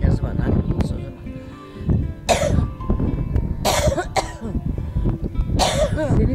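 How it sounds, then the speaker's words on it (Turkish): Repeated coughing indoors, several sharp bursts spaced a second or two apart, close and loud, with conversation around them. "Öksürük geliyor işte."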